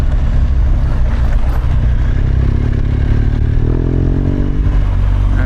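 A BMW R1200GSA adventure motorcycle rumbles loudly and steadily over rough off-road ground, its engine drone close and constant with loose clattering from the centre stand mixed into the roar.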